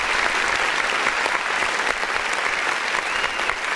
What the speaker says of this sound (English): I give it a quick clap